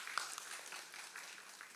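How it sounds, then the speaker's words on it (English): Faint, distant applause from an audience at a hackathon final pitching event, a soft patter of clapping spread evenly through the short span. "A huge round of applause for Hyunjin Moon."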